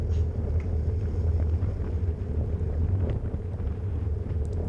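Wind roars across the microphone during a cycling race on bumpy roads, a steady low buffeting rush with faint rattles, with no voices.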